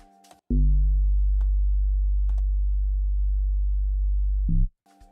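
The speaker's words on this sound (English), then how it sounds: "Then we have a bass line here" A clean, deep sub-bass note from an amapiano track made in FL Studio holds steady for about four seconds, starting and ending sharply, with faint brief clicks around it.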